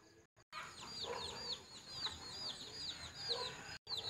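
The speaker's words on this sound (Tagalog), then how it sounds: "Daming manok. Pakalat-kalat ang manok." Chickens wandering around a provincial yard in the morning cluck repeatedly in short, bright calls, with several birds close by and others farther off in a quiet outdoor setting.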